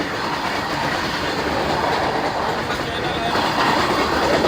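Train rolling through the Ankorha railway crossing, a steady loud rumble with faint rhythmic wheel clatter filling the whole span, close by and continuous with traffic noise around it.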